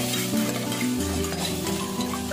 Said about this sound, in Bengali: এবার আমি হাঁসের ডিমগুলোকে একে একে ভেজে নেব।